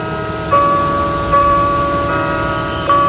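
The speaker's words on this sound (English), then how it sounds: "Bells at St. Anne's Catholic Church rang out for Congressman Mickey Leland this morning" Church bells ring out at St. Anne's Catholic Church, steady sustained tones with three fresh strikes swelling in over about three seconds, loud and alone with no talk.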